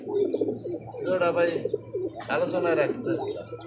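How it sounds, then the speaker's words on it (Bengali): A breeding pair of Hungarian Budapest pigeons in tiger colouring coo close by in low, rolling phrases, with people talking over them at a pigeon sale. "Hungarian Budapest tiger colour running pair ভাই"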